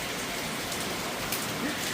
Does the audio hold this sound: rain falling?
yes